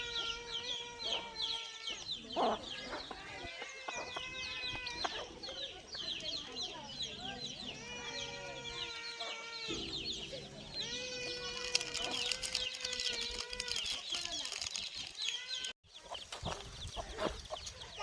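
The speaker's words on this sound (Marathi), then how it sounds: "मस्त आहेत पण कोंबड्या" Several free-range country chickens cluck and squawk continuously at close range on a farm, with a faint buzz of insects and occasional background voices.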